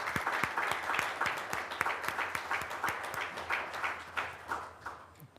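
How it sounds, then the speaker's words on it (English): Applause at a county board meeting for a departing director, a modest round of clapping from a small room, steady and moderately faint for several seconds. "if everyone can just give an applause to Danielle"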